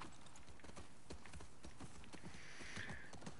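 Horse hooves clip-clopping in the video game The Last of Us 2, a steady rhythmic trot of hoofbeats continuing throughout at moderate volume.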